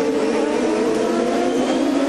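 A Champ Car open-wheel race car roars at the 2008 Toyota Grand Prix of Long Beach street circuit, a loud, steady, high-pitched engine whine that holds for about two seconds with no pause.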